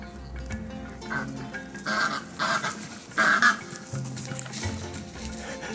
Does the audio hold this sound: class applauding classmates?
no